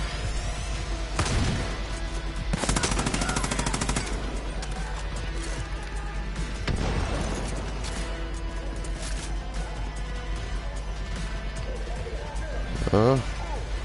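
Rapid bursts of gunfire from the PS4 shooter Far Cry: New Dawn crack out in clusters over steady game music and ambience, with a louder volley in the middle and a voice talking over the action.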